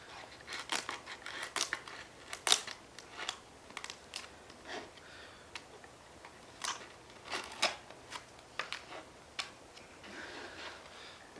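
Sharp cutting snips and clicks from trimming the edges off a small skateboard set, irregular and close, a few dozen quick bursts scattered across a quiet background.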